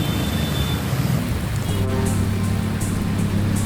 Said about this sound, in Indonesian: Hujan yang mengguyur Jakarta sejak siang membuat genangan setinggi 60 hingga 70 cm.